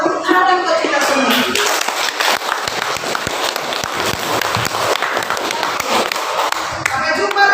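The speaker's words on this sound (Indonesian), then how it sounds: "tepuk tangan buat kita semua" A group, likely a class at a school, claps hands together in a lively burst of dense, uneven clapping that runs for several seconds, with a faint voice underneath at the start and end.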